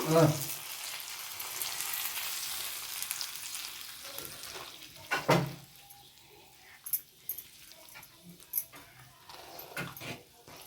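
A pot of jaggery rice on the stove is stirred, with a soft sizzle early on and scattered clinks and scrapes of the spoon against the vessel, while people talk nearby.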